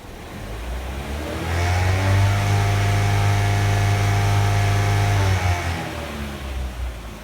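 A Chevy car engine with a MAF sensor fault revs up under acceleration, rising from a low idle to a strong, steady, harmonic-rich roar for a few seconds before dropping back down, close and alone.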